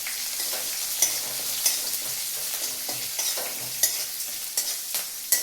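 Grated ginger hits hot tempering oil with curry leaves and green chillies for carrot upma, giving a steady close sizzle and fry with light stirring clicks scattered throughout.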